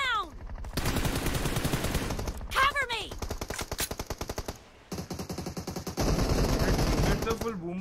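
Rapid automatic gunfire and shotgun blasts from the mobile shooter BGMI in a team deathmatch, loud dense bursts with brief gaps, alongside game sound effects and a voice talking.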